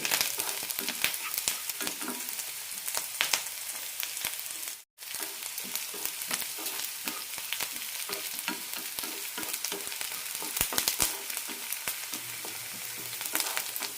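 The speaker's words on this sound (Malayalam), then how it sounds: "സവാള ചെറുതായി ചോക്കാൻ തുടങ്ങിയിട്ടുണ്ട്" Onions fry in a pan at the start of a ridge gourd curry, a close and continuous sizzle broken by crisp crackles and stirring scrapes, with one abrupt short gap midway.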